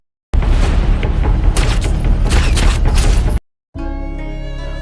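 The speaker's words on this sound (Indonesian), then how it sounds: "mendengar suara tembakan" A loud, booming gunshot erupts suddenly and rumbles for a few seconds before cutting off. A sustained ringing tone follows after a brief silence.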